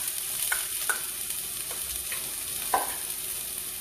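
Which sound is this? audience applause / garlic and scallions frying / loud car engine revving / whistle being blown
garlic and scallions frying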